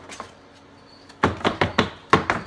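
Egg cartons knocked off a cricket breeding tray into a bin make a quick series of six or so hollow papery thunks and taps after a quiet start.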